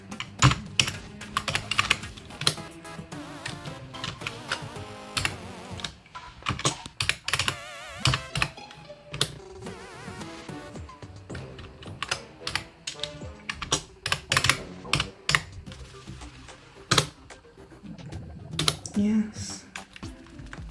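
Rapid clacking on a computer keyboard while entering a user account password during a system install, bursts of keystrokes with short pauses, close and crisp, with occasional talk.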